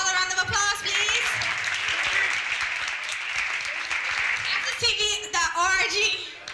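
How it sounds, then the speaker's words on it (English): An audience at a commemoration event for Roberto and Vera Clemente breaks into a long round of applause. A voice speaks over the start and again near the end, while the clapping stays steady and fairly loud through the middle. "Can we give them all a round of applause, please?"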